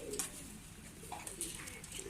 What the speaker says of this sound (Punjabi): ਇਹ ਬਹੁਤ ਹੀ ਪਸੰਦੀਦਾ ਕਬੂਤਰ ਹੈ ਜਨਾਬ